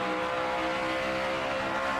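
A NASCAR Nationwide Series race car at Iowa, loose and hard to handle, roars steadily on track with a sustained, loud engine drone and no voices.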